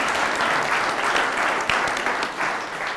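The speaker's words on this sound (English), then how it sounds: "Let's give Stefan one more round of applause" Steady, full applause from a morning conference audience on the future of agriculture fills the space with dense, continuous clapping.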